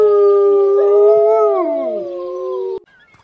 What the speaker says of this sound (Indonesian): kamu mungkin hanya bisa mendengar lolongannya di malam hari daripada melihat sosoknya langsung